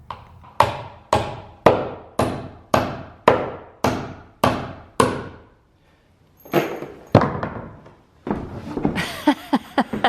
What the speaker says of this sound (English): I haven't hammered that much in a long time.